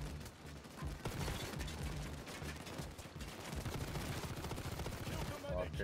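Dense, continuous gunfire with rapid automatic bursts rattles through a heist shootout in the video game Payday 2, steady and fairly quiet throughout, with a voice faintly present underneath.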